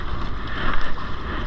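Wind buffets a small fishing boat at sea during lobster netting against a high tide. It makes a steady, loud rushing roar with gusty swells, and no one speaks.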